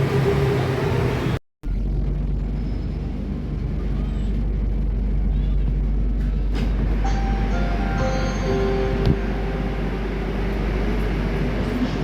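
Steady rumbling drone of a Kochi Metro train in motion, with a brief dropout early on and a faint tonal whine rising later, heard from inside the carriage.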